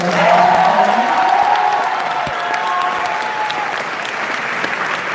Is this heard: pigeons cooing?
no